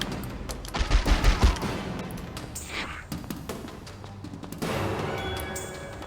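Gunfire in The X-Files: Resist or Serve video game, a burst of several loud low thumping shots close together, then scattered sharper impacts and clatter under a steady game background hum.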